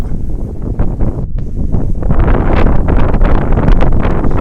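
Strong wind at Chom Phon beach buffets the microphone, producing a loud, continuous low roar and rumble that swells and gusts throughout, with no talk.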